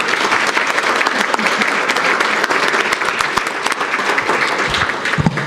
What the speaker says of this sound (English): Let's give a round of applause for everyone who participated in the Wolves Den yesterday.